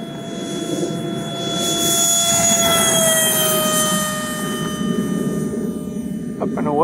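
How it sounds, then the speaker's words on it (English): A Habu 32x electric ducted fan RC airplane takes off, its fan whining at a high, steady pitch that rises and then sweeps down as the plane pulls away. The sound is fairly loud and continuous. "It's the latest in the series of Habu airplanes, and it's an electric ducted fan"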